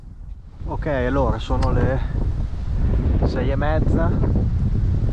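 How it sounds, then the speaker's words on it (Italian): Strong wind rises outdoors and roars steadily against the microphone, loud and close, while someone talks over it. "come sentite, si sta alzando un gran vento"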